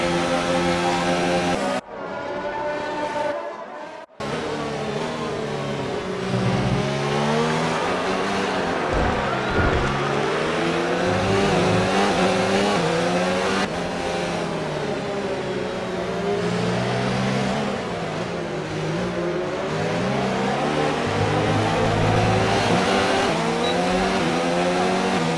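A race car engine in a video game revs continuously and loudly, its pitch rising and falling through gear changes, with a brief gap near the start; no talk is heard over it.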